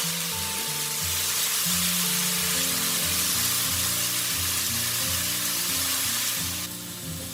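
Corn, carrot and onion fry in a pan, giving a steady, loud sizzle that lasts throughout. Tonal background music plays underneath.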